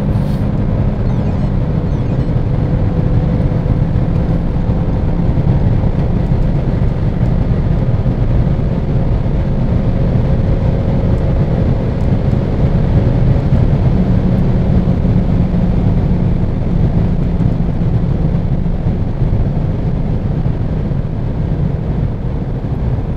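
Renault Megane Sedan 1.3 TCe 140 with EDC gearbox revving to just over 6000 rpm, a steady, loud, continuous engine drone with rising harmonic tones, heard from inside the car without talk.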